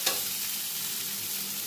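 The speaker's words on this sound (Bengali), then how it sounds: "দেখুন কচু আর আলুটাকে আমার খুব ভালো করে ভাজা হয়ে গেছে।" Taro and potato pieces fry in a pan with a steady, close sizzle, stirred once at the start, with no voices.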